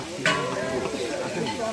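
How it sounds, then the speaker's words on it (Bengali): Fish frying in oil on four stoves at a large outdoor village cooking for three thousand people, with a steady sizzle and a brief sharp burst, and voices talking nearby. "আর এ পাশে 4টি চুলে আমরা মাছ ভাজি করছি।"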